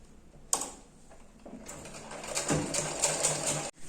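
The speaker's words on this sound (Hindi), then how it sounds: "अब इसको मैं पहले अस्तर को नीचे से मैं सिलाई कर लेती हूँ यहाँ से।" A sewing machine stitches a blouse lining in a close, steady mechanical run of rapid rattling, starting after a sharp thump and rising in loudness before stopping abruptly.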